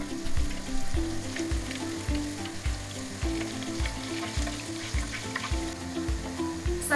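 Steady bubbling sizzle of cheese doughnuts frying in hot oil in a pot, a dense crackling hiss with soft rhythmic low thumps underneath, close and continuous with no voices.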